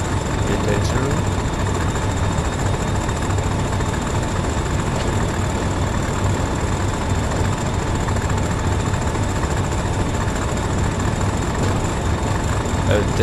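Loud, steady diesel engine roar fills a train's engine room on the Northern Trans-Pennine line in Train Sim World, a constant low rumble with a faint whine and no break or change throughout.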